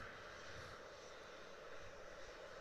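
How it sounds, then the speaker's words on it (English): A Ryanair Boeing 737 at Manchester Airport makes a steady, even engine roar that holds at a fairly faint, distant level throughout. "Here we go, Ryanair 737 just about to go head on with us."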